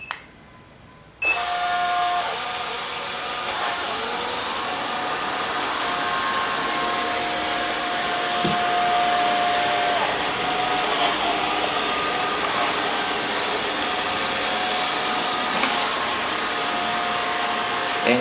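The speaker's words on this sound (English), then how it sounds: "And right now the vacuum motor is on." An Alfawise A6 robot vacuum runs with its vacuum motor switched on, starting after a brief quiet moment. It settles into a steady, loud whirring hum with a faint tonal whine on top and no talking.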